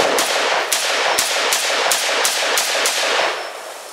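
An M14 rifle fires at an outdoor shooting range, about nine sharp, loud shots in a quick, fairly even rhythm, each with a short echoing tail, with no voices.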